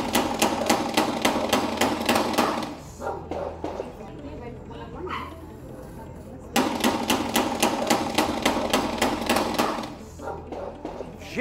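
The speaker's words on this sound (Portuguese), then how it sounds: "Teve bala, foi bala pra lá e bala pra cá, tudo nesse confronto" Gunfire erupts during a territorial confrontation between rival gangs in the Mário Andreazza neighborhood. Two long bursts of rapid, evenly spaced shots are separated by a few seconds of quieter background.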